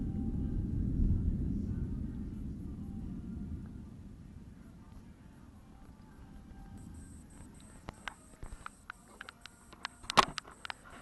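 Thunder from a severe thunderstorm rolls as a deep rumble that swells and slowly fades over several seconds, followed by quieter scattered patter and clicks.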